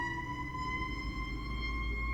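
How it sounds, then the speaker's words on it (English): An emergency vehicle siren passes outside, a steady wailing tone heard at a distance over low background rumble. "I'll wait for that siren to go because I don't know if you can pick it up."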